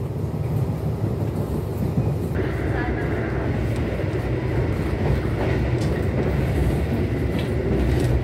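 Gajayana passenger train rolling along the tracks from the inside, a steady loud low rumble with faint clickety-clack and a tonal whine rising partway through, under occasional talk.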